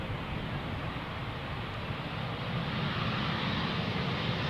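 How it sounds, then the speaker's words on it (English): An Embraer jet in SkyTeam livery, arriving from Montpellier, lands on runway 18R at Amsterdam Schiphol with no reverse thrust applied. Its broad engine roar holds steady and loud throughout, with no talk. "here the Embraer in SkyTeam livery coming in from Montpellier"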